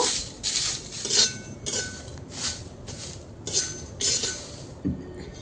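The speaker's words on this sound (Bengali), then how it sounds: "কিছু সময় নেড়ে ছেড়ে ভেজে নেওয়ার পর কালারটা পুরো চেঞ্জ হয়ে আসছে" Onion peels being stirred as they fry black in a pan: steady rhythmic scraping and clinking of a spatula against the pan, about a dozen close strokes over a low sizzling background, no talk.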